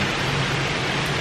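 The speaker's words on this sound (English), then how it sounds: "It is a lot of rain." Heavy rain from Hurricane Ida falls in Hershey, a dense, loud, continuous hiss that stays steady throughout with no talking.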